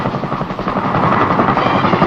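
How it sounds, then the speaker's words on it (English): A CH-47 Chinook heavy-duty Army helicopter drones with a loud, steady rotor chop and engine roar that fills the whole stretch without pause. "The Army's heavy-duty helicopter, the CH-47, known as the Chinook"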